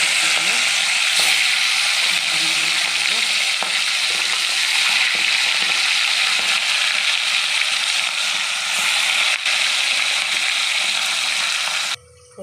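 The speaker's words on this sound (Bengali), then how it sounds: "কড়াইয়ে সরষের তেল নেবো মাছগুলো ভাজার জন্য।" Pieces of catla fish rubbed with salt and turmeric fry in hot mustard oil in a wok, producing a loud, steady, crackling sizzle that holds close and even throughout before cutting off at the end.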